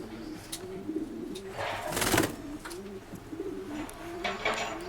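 Racing pigeons in a loft coo in repeated low, throaty phrases, close and clear, with a brief burst of flapping or rustling midway and no voices.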